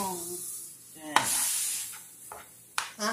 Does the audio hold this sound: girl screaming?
no